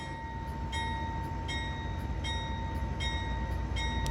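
An Amtrak California Zephyr passenger train arriving at Sacramento: a low steady rumble of rolling cars with faint rhythmic clicks and a thin high whine, heard from close by and without voices.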